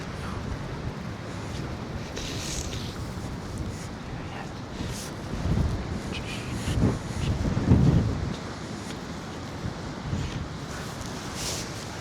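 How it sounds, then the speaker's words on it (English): Stormy southeasterly wind buffets the microphone in a steady, rough roar, with stronger gusts swelling around the middle of the stretch. "Lovely stormy conditions on these southeasterlies and southerlies."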